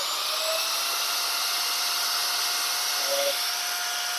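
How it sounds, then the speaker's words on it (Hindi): A Velmoc 4-inch angle grinder running steadily, a loud continuous high whine with a constant tone and a brief change near the end. "इस ग्राइंडर को अगर अपन चालू करते हैं"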